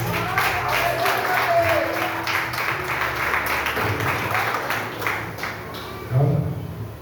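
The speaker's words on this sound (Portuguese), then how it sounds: "Dá uma salva de palmas para esses 3 atores." A church audience gives a round of applause for three actors after a short sermon skit, with scattered claps forming a moderate, uneven patter and a few voices briefly rising over it.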